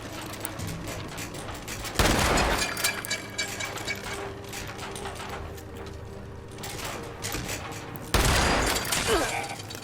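Two loud shotgun blasts from the video game Fallout 76, several seconds apart, each a sharp heavy boom over a busy background of in-game noise.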